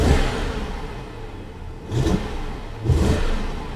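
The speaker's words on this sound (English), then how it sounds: "It sounds like it revs all right," Car engine revving with a slight misfire, close and loud: a steady idle rises in two short surges, each rev stumbling slightly, with a faint clatter and no voices.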